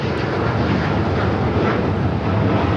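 A heavy Airbus jet on short final at Los Angeles LAX gives a loud, continuous engine roar that stays steady and close throughout.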